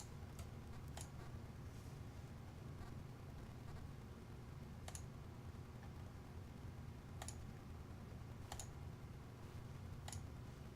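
A computer mouse clicks during work in the WordPress Gutenberg editor: a handful of light, sharp clicks at irregular intervals over a quiet, steady room hum.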